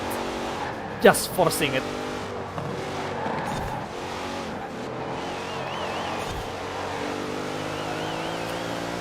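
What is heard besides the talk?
SUVs racing in the video game Forza Horizon 4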